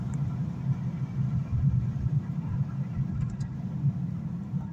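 Slightly damaged BMW 440 Pack Performance engine giving a steady low rumble, heard from inside the car as a continuous throaty drone with no talking.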